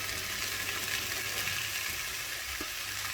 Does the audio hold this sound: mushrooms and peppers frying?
yes